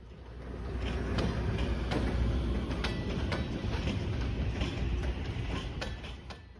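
An Amtrak-era F40PH-2C diesel locomotive, one of the last four in service and now working as a work engine, rumbles past on the rails with a steady low roar and scattered clicks and clanks, fading in and out.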